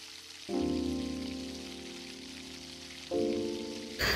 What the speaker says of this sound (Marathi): आता कढईमध्ये आपण जिरं, हिंग, मिरची टाकून त्याला आणि कांदा टाकून त्याला परतायचा आहे